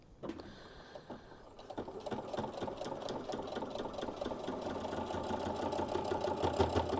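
Sewing machine stitching a fabric apron pocket, a steady fast mechanical whirr with rapid needle ticks running continuously, close and fairly quiet, with a brief start and pause at the beginning.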